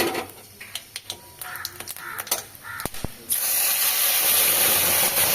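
Cumin seeds, bay leaf and whole garam masala hit hot oil for tempering, a few sharp crackles and pops giving way to a loud, steady sizzling hiss that fills the rest of the clip.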